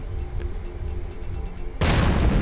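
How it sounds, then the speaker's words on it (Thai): A sudden loud explosion in the survival video game Last Day on Earth Survival, a broadband boom that bursts in near the end and holds as a sustained roar after quieter ambient game sound. "งั้นเราระเบิดตรงนี้แล้วกัน"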